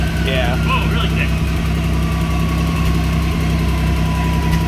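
A cold Pontiac Fiero engine idles nearby with a steady, low rumbling hum and a slight vibrating roughness throughout, and voices can be heard talking over it.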